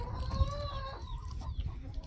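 Hen clucking up close in a backyard coop, a run of short rising calls followed by softer scattered clucks over faint ambient noise.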